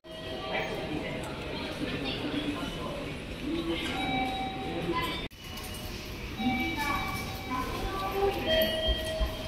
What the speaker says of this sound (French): je suis sur le quai de la gare JR